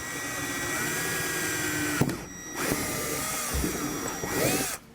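A power drill whines steadily, bogging briefly as the bit bites into wood, then revving on and cutting off near the end, drilling holes for a hook and keeper in an enclosed trailer.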